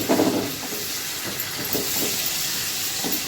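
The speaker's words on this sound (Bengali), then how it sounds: "একটা তেজপাতা একটা শুকনো লঙ্কা ফোড়নের জন্য দিয়ে দিলাম এবার পেঁয়াজটা দিয়ে দিলাম" Hissing, steamy sizzle of chopped onion frying in hot oil with a bay leaf and a dried chilli for a taro, aubergine and prawn curry, loud and close, with faint scraping and no talk.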